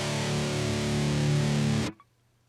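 Distorted electric guitar through a Kemper Profiler with the cabinet section switched off, giving a harsh, fizzy sustained chord that rings loudly for about two seconds and then cuts off sharply.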